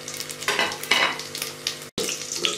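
Whole spices, bay leaf and cumin fry in a pot for a Jamaican-free Indian pulao base, crackling and hissing loudly in uneven bursts with stirring, broken by one sudden moment of silence.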